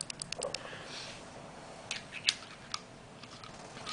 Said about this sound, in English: Really nice clicky button.